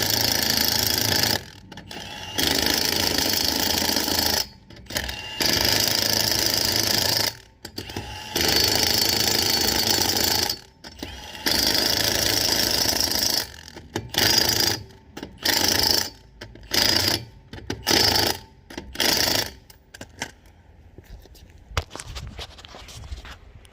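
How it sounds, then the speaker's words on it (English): An impact wrench set to its second setting drives lug nuts on a 2021 Ford Bronco Sport wheel in a cross pattern: loud, close rattling bursts of a few seconds each with short pauses, ending in quicker, choppier bursts. "tighten them in a cross pattern, you know, like so, either by hand or with the impact"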